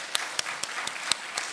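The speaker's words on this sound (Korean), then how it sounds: "감사의 박수 하겠습니다." A church congregation claps together during a Korean Sunday worship service, a steady wash of applause with faint rhythmic accents, heard on its own at moderate level.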